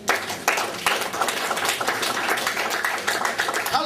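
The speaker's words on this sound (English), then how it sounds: "Clap your hand for Jesus" A church congregation claps together during a sermon by an evangelist in Singapore, a dense, steady run of overlapping hand claps continuing throughout at moderate volume.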